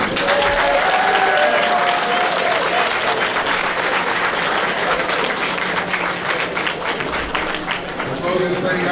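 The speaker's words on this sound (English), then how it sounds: "I think we need to give them another round of applause." An audience at a high school signing day gives a steady, dense round of applause that holds for the whole stretch, close and loud, with some voices mixed in.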